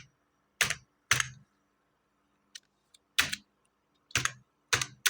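Typing on a computer keyboard, heard as a handful of separate, crisp key clacks spaced irregularly over a few seconds, with near silence between them.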